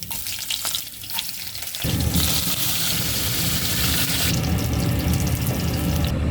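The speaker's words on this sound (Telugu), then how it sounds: "ఇలా పోపు వేసుకునేటప్పుడు జాగ్రత్తగా వేసుకోండి లేదంటే చేయి మీద పడుతుంది" Mustard seeds, cumin, chana dal and garlic hit hot oil in a pan for tempering, setting off a loud, steady sizzle that jumps up partway through and keeps crackling to the end, with no talk over it.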